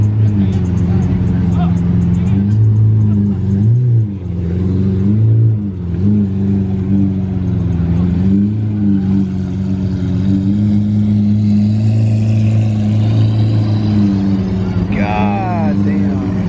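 A Lamborghini Aventador engine rumbles loud and close with a deep steady drone, its pitch rising and dipping as it is revved, while voices talk over it throughout.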